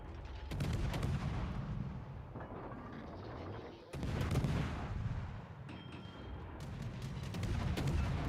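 Warship main guns booming in the naval combat game World of Warships: Legends, with several heavy, loud blasts spaced a few seconds apart and rumbling tails between them.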